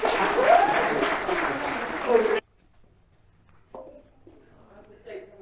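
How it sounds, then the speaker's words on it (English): A round of audience applause at a community health project show, loud dense clapping that stops abruptly after about two seconds, followed by near silence and then a voice speaking. "Can we give them a round of applause?"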